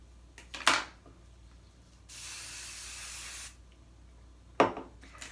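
A single continuous spray of IGK dry oil hair product lasting about a second and a half, steady and close, between a few brief rustling brush strokes on hair.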